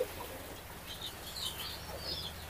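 Domestic native pigeons kept in an upper loft above chickens and goats flutter their wings with a few soft chirps. The sound is faint and distant over a low, steady background.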